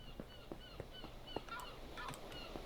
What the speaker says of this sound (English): That's just a headless chicken.